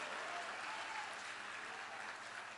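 A church congregation applauding the Lord during a sermon, a steady wash of clapping from many hands that holds at an even level throughout, with no voices rising above it.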